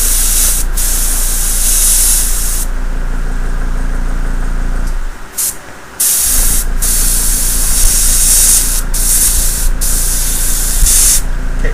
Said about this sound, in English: give these things a good coat with the metallic paint